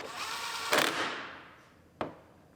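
A power tool runs in the bolts on a new headlight bracket for an Acura RDX, a broad whirring burst that fades out, followed by a sharp click.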